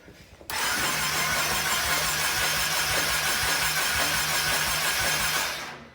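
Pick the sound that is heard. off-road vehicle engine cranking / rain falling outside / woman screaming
off-road vehicle engine cranking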